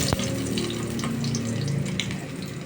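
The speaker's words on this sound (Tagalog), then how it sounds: "Iinitin natin yung mantika at saka natin ilagay yung bawang sibuyas." Garlic and onion sizzling in hot oil in a pan for pancit, a steady close crackling hiss with faint clinks.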